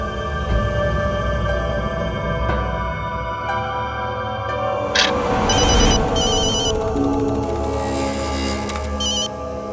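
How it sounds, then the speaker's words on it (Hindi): An indoor telephone rings through a dramatic TV scene, sounding as repeated bursts of bright electronic ringing over steady background music and room noise. "फोन उठाओ।"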